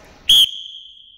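One short, sharp, high whistle blast, loud and clean, used as a signal in an odd-or-even children's motor game, leaving a brief ringing tail.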